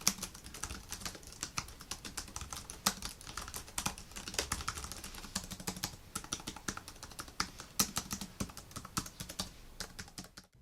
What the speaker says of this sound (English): To give you a general idea how the keyboard sounds,